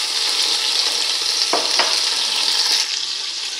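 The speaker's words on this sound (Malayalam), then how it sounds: "ഇനി നമുക്കിതിലേക്ക് നമ്മൾ ക്രഷ് ചെയ്ത് വെച്ചിരിക്കുന്ന സവോള" Crushed onions sizzle steadily in a hot pan for a Chicken maqlooba, with two brief stirring scrapes partway through the frying.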